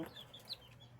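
A Boston chicken gives a single faint, short cluck at close range, with nothing else in the brief moment.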